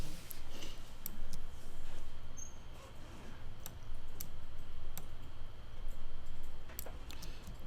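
Computer mouse clicks while tracing a logo with the pen tool in Illustrator: a few sharp, quick ticks scattered over a steady low background hum, close and fairly quiet.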